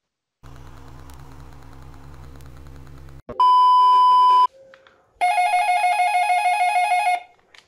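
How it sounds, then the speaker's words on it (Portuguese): An electronic intercom buzzes in a home at night, with loud steady tonal bursts: a short one followed by a longer sustained buzz, after a stretch of low humming background. "Quem tá interfonando nessa hora, gente?"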